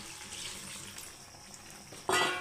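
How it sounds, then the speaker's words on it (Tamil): Lentil cooking water pours into a pot with a splashing gush near the end, following quiet kitchen background. "பருப்பு தண்ணி தான் பருப்பு தண்ணி அப்படியே ஆட் பண்ணிடுறேன்"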